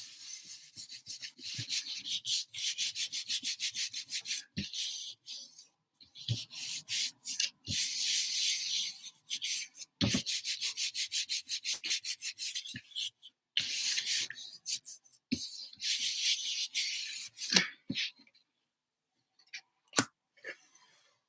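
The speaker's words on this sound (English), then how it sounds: "Give it a good rub." Paper rubbed by hand over a gel press plate inked with alcohol inks, a close, raspy back-and-forth scrubbing in quick repeated strokes, broken by short pauses and small taps, with no talking.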